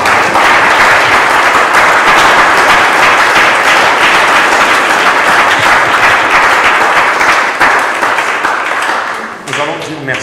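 A church congregation applauding loudly and continuously during a French-language service, dense sustained clapping with crowd voices mixed in, tapering off near the end.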